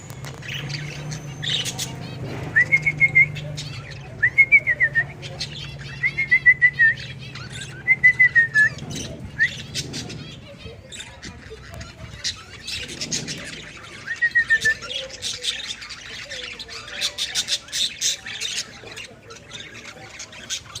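Several pet lovebirds chirp, whistle and squawk in repeated bursts over a steady background hum, some calls sharp and close, others softer.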